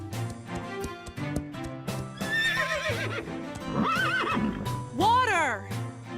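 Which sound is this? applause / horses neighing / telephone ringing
horses neighing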